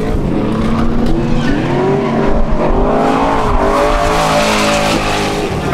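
Holden Commodore drift car, Castrol Edge livery, competing at a D1NZ round at Taupo Motorsport, revs hard with rising and falling engine pitch and squealing tires, loud and continuous.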